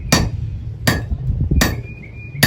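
At a blacksmith's anvil, a hammer strikes a hot nail held on a hardy cutting tool, giving four sharp, ringing metallic blows about a second apart, close and clear with no talk.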